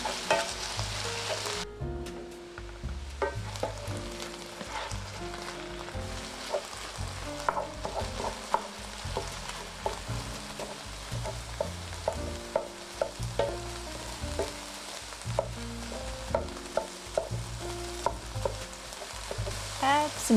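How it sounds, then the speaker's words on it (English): Ground beef browning in a skillet for crunchy tacos, a soft steady sizzle broken by frequent scraping and tapping as the meat is broken up, fairly quiet and close. "Then I'll be breaking up the meat to brown it thoroughly"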